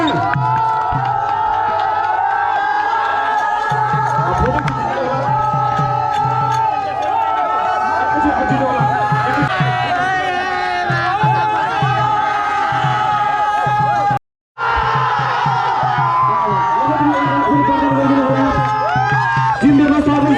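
A large crowd at a football cup final award ceremony in Nepal cheers and shouts loudly, with voices overlapping in a constant roar. Announcer speech and a drone of tonal noise run through it, and the sound briefly cuts out near the end.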